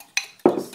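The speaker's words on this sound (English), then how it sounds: "just stirring to dissolve." Spoon clinking against a bowl while stirring a mango pudding mixture to dissolve it, two quick close knocks in under a second.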